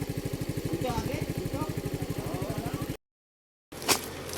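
A motorcycle engine runs steadily while being ridden, its rapid regular pulsing close and prominent before a brief cut to silence, then returning with a sharp burst.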